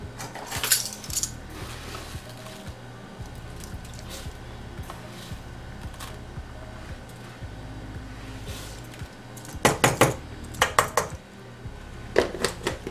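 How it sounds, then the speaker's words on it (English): Flax seeds being spooned into a blender for a detox smoothie, with light clinks and scrapes of a spoon against the container and a few sharper rattling bursts toward the end; no talking. "Now we're going to add in 2 tablespoons of our flax seeds."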